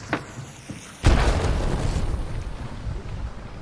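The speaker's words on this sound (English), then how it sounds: "I'm throwing a frag in there" A fragmentation grenade detonates in the Hunt: Showdown game, a loud sudden boom that rolls into a long, rumbling decay, preceded by a couple of faint clicks and ambient game noise.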